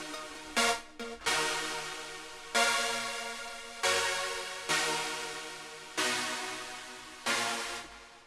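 Bright, buzzy saw-wave synth chords from the Silent preset for a melodic trap beat, struck in sustained blocks that decay slowly, with a couple of short stabs at the start, played alone and loud.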